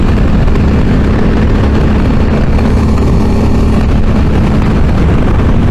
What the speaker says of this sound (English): Man, that wind's got bad.